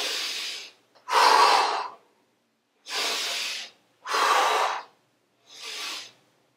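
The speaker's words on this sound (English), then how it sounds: "always breathe on the hard part" Heavy breathing during goblet squats, five loud, close, forceful breaths spaced about a second apart with silence between them.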